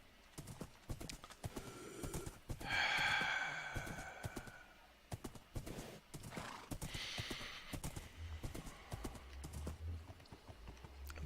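Horse hooves clip-clop in a steady rhythm while riding out to a desert in Minecraft, with a loud whinny partway through, then the trotting carries on near and clear.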